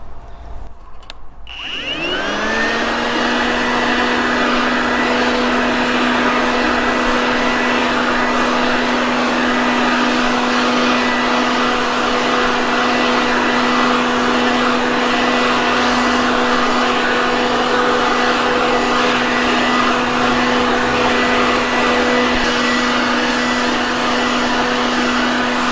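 A Worx WG583E.9 40V brushless leaf blower/vacuum, fitted with the blower nozzle, spins up after a second or two. It then holds a loud, steady, high whine of rushing air for the rest of the run.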